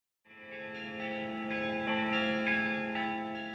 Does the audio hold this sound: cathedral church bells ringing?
yes